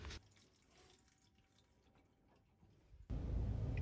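Water drains and trickles out of the heat exchanger circuit of a Worcester Bosch 30si combi boiler, a faint steady dribble that swells into a louder, fuller gush of running water near the end.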